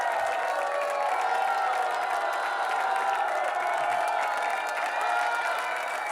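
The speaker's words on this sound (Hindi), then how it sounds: "जोरदार तालियां।" A live comedy show audience applauds and cheers for someone called onstage, a steady wash of clapping and crowd noise that holds at an even level throughout.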